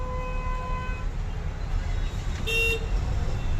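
Traffic streams through the Mundhwa Chowk signal in Pune as a steady roadway rumble, with car horns tooting near the start and a sharper honk partway through.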